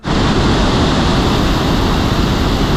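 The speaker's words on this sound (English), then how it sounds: "another little waterfall" A small waterfall in the Yorkshire Dales rushes in a loud, steady wash of falling water, close by and alone, with no voices.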